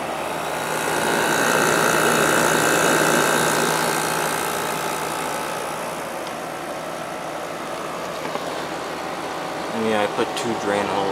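A GE 8100 BTU window air conditioner runs with a steady broadband whoosh of fan and airflow over a low hum, fairly loud and constant, with a brief voice or clatter near the end.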